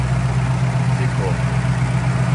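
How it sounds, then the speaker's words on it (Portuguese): A 1981 Ford F100 pickup with a V8 engine idles with its hood open, a steady, loud, close low rumble that holds evenly throughout. "Olha essa lenta. Motor organizadinho, né?"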